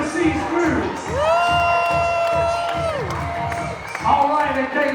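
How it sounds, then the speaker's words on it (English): A crowd cheers and applauds the Grandeur of the Seas cruise ship crew at an onboard parade of flags, with loud whoops and a long rising and falling voice cry ringing over the continuous crowd noise. "Give all a big round of applause"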